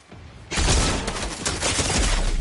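A gun firing in Fortnite, a loud sudden burst of rapid shots that starts after a quiet half-second and keeps rattling on densely to the end.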